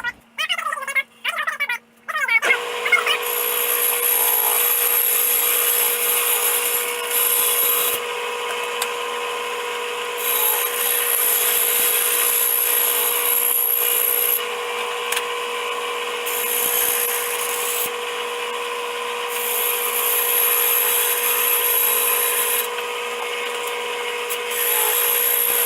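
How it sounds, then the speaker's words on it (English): A bandsaw cuts a quick cutout from a workpiece in a shop, a loud, steady whining rasp that runs continuously for over twenty seconds after a few brief starts. "take it over to the bandsaw and just give it a quick cutout"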